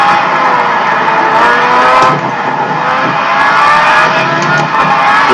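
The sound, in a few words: Lamborghini engine racing in video game Gran Turismo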